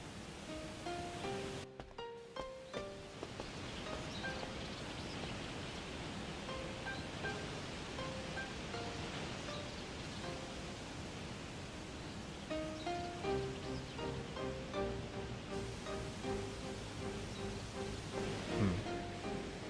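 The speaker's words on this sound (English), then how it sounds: "It sounds like a waterfall." Steady broadband rushing of a waterfall in the Shenmue 2 video game fills the whole stretch, fairly faint, with soft background music tones running underneath and no talking.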